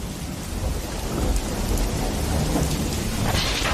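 Steady heavy rainfall hisses continuously, with a low rumble of thunder swelling in the background.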